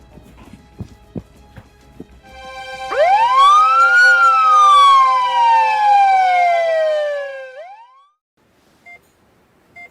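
A wailing ambulance siren sweeps up sharply and then slowly glides down in one long loud rising-and-falling tone, cutting off abruptly, after a few soft footsteps and knocks.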